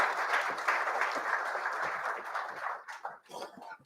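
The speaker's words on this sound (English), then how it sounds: "A round of applause." Applause from guests at a corporate event, a steady wash of clapping that thins and breaks into scattered claps toward the end, heard without speech.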